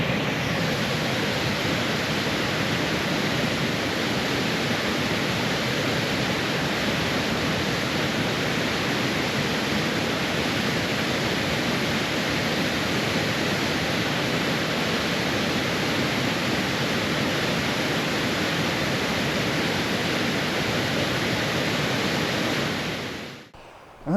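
Fast-flowing water pours down Purgatory Falls in a loud, steady, broadband rush that holds unbroken and close before cutting off abruptly at the end.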